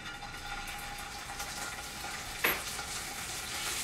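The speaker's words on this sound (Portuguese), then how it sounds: "Azeite quente. Eu vou colocar aqui o alho." Chopped garlic hits hot olive oil for a vegetarian puttanesca or Norma pasta sauce and fries with a steady close sizzle, with a brief louder crackle burst near the middle.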